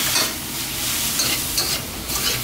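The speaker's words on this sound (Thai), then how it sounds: "แล้วก็ผัดให้เข้ากันนะครับ" Bamboo shoots and egg are stir-fried in a hot pan with a loud, continuous close sizzle. A spatula scrapes and tosses the food in uneven sweeps, and no voices are heard.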